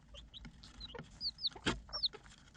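Chicks cheeping in high, thin chirps with soft clucks from a mother hen among them as they feed, close and fairly quiet, in scattered bursts.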